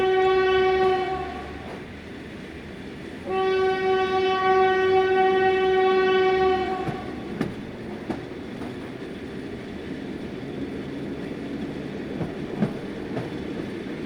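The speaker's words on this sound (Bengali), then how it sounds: "আমি এসব কথা ভাবতে ভাবতেই ট্রেনটি ছেড়ে দিল।" A train sounds two long, loud horn blasts, then its rumble and clatter carry on as it pulls away, with a few sharp knocks near the end.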